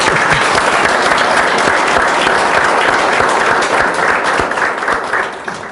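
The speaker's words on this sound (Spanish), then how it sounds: "vamos a dar un aplauso a Paquito" An audience at a book presentation applauds loudly and steadily, a dense wash of clapping that carries for several seconds before starting to thin at the end.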